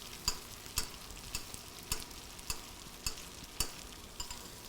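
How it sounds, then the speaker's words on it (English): Sea bass fillets fry in a pan while foaming butter is spooned over them, with a steady sizzle and a regular rhythm of sharp taps of the spoon against the pan, about one every half second, close and without talk. "once the butter starts to foam up, you just wanna baste the fish with it"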